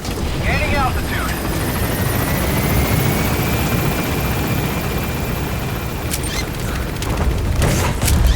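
A helicopter in the video game Metal Gear Solid V: The Phantom Pain, with a continuous loud rotor chop and turbine whine filling the scene, a few mechanical clanks near the end, and radio-style voices speaking over it.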